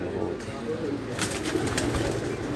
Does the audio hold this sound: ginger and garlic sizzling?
no